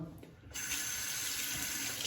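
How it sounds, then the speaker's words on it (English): Hot water gushes from a bathroom tap to warm a Mühle R41 safety razor, starting softly and then running full and steady as a close, hissing stream. "I'll temper it under the hot water, the Mula R41."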